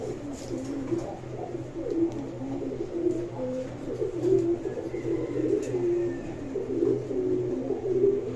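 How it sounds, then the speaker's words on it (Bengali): A pair of Indian Bombay pigeons, one of them deep red, coo steadily in layered, throbbing low phrases. The sound is close and continuous, with no pauses and no talk. "এখন দেখতে পাচ্ছেন এখানে একজোড়া ইন্ডিয়ান বোম্বাই কবুতর"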